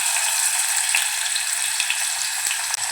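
Cinnamon pieces and onion sizzle in hot oil for a Malvani vatana bhaat pulav, a steady, close, bright frying hiss with faint crackles and a brief stirring clink near the end, no talk.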